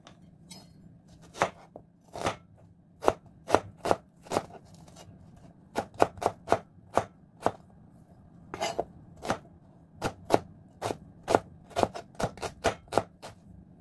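Onions being chopped with a knife on a cutting board, a run of close, sharp thuds in irregular bursts, some quick and clustered, others spaced apart, over a quiet background.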